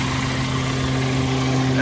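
A GDI car engine idles after an oil change, giving a steady low hum with a constant mechanical drone that stays even and close the whole time, with no talking.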